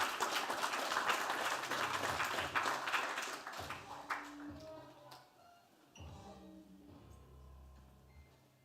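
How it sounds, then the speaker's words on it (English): A room of people claps, a dense burst of applause that thins out and fades as music begins underneath. "Round of applause for Alex here."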